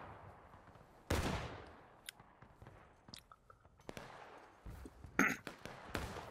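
Gunfire in a VR shooter game, fired through a fence during a team firefight: a sharp loud shot, then scattered quieter pops and cracks, and a second strong burst near the end.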